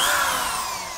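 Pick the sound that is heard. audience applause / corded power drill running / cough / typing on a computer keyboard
corded power drill running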